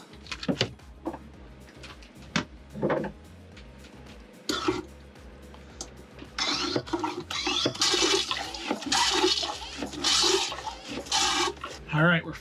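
A sailboat's marine toilet, just repaired, flushes with a run of scraping, rasping pump strokes and gurgling water that grows louder and denser toward the end, after scattered knocks and a throat clearing.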